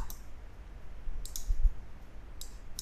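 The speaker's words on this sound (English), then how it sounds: "right click on there" Computer mouse clicking during Photoshop editing: several faint, sharp clicks spaced irregularly, some in quick pairs, over a quiet background with no talking.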